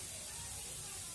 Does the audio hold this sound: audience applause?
no